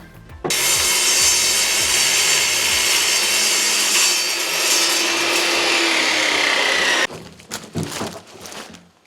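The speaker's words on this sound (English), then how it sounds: "the first thing we gotta do is cut the base for that fabric to go around" A saw cuts through the wooden base of a DIY fabric headboard in one loud, steady, grinding pass lasting several seconds, then stops, followed by a few scattered knocks.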